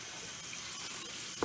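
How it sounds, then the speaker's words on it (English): Water runs steadily from a tap over soaked microgreen seeds in a strainer, a continuous close hiss of rinsing with a brief louder splash at the end. "we're going to put them back in the strainer, and we're going to rinse them one more time"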